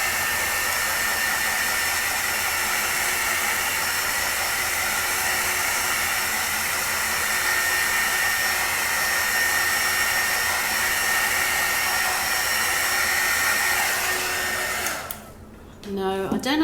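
A heat gun blows hot air onto a paint surface with no silicone, a steady loud broadband whoosh that runs unbroken for about fifteen seconds before cutting off abruptly near the end.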